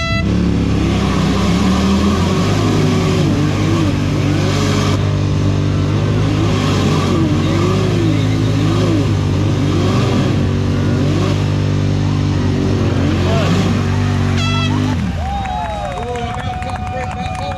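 A Yamaha RMAX and a Can-Am X3 side-by-side roar at high revs while locked in an outdoor tug of war, engines loud and close and rising and falling over crowd noise, then cutting off abruptly near the end.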